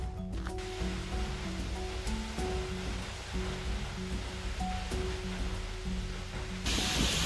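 Fairy Falls pours on a snowy, chilly morning, a steady broadband rush of falling water that holds at an even level throughout, with a brief brighter hiss near the end.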